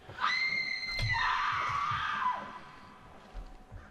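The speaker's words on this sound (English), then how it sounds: "I told you there was ladies screaming" A woman's high, sustained scream from a horror video game, loud and wavering for about two seconds before trailing off, with soft thuds in the background and no talk.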